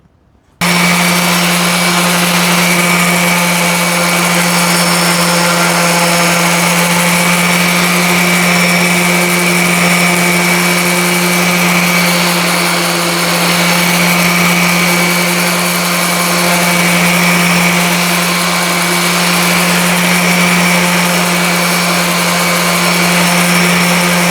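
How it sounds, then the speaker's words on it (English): A power sander grinds loudly and continuously against a five dollar garden hoe, a steady high whine that starts abruptly and holds unbroken, close up with no talking. "I was just sanding away on that"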